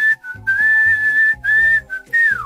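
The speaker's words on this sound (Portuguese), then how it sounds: "Ele apenas assobia a música que estava cantando no começo do vídeo." A man whistles a tune in a Resident Evil 2 animated parody, in several bright sustained phrases with short breaks, close and alone over soft low background music.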